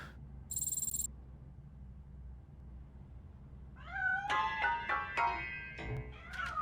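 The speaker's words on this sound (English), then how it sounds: "That cat must be hiding inside." A cat in RoboCop Rogue City meows in a quick series of close, clear cries after a quiet stretch with a faint low hum and a brief high electronic beep.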